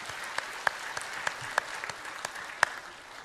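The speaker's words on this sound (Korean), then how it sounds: "박수로 환영합니다." A church congregation at a Sunday service applauds to welcome newcomers. The clapping is steady and moderately distant, with a few sharper individual claps standing out and no talk over it.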